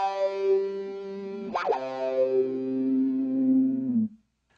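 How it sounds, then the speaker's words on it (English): Electric guitar played through an Electro-Harmonix Q-Tron Plus envelope filter in series with a Micro Metal Muff distortion: a sustained, gritty note that shifts pitch midway with a brief squelchy sweep, then rings on steadily and cuts off abruptly. "we have a micro metal muff going in, and it's in series with the filter"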